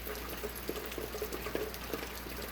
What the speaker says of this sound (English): hopefully this rain will die back a little later